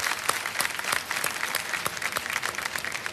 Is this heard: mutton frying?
no